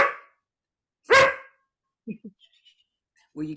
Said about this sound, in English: the dog's going to start barking because I'm talking